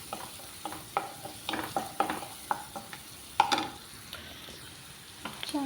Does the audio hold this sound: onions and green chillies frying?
yes